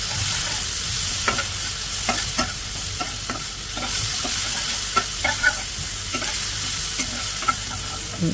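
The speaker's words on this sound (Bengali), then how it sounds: "তেল গরম হয়ে গেলে এখন পেঁয়াজ কুচি এবং কেটে রাখা বাকি বাকি মশলাগুলো দিয়ে দেব এবং পরিমাণ মতো লবণ এখন ভালো করে নাড়তে হবে" Chopped onion, spices and salt fry in hot oil in a pan while being stirred, giving a steady loud sizzle broken by regular scraping strokes of the spoon, close up and with no voices.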